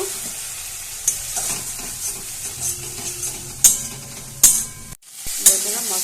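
A ground paste of mustard, ginger, cumin and dry red chilli frying in a pan for a sea fish dish, a soft continuous sizzle punctuated by several sharp metallic scrapes of stirring, close by.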